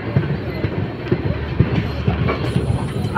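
Padatik Express rolling into New Jalpaiguri Junction, heard from on board as a close, steady rumble with rhythmic clickety-clack of wheels over rail joints and a faint squeal near the end.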